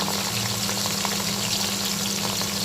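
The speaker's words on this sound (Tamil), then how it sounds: "இப்போ இது நல்லா பொரிஞ்சுக்கிட்டுருக்கு" Spices fry in hot oil for beef biryani, a dense, steady sizzle and crackle that fills the whole stretch without a break, close and fairly loud, with no talking.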